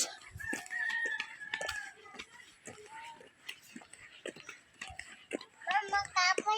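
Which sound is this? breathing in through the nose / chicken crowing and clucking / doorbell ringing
chicken crowing and clucking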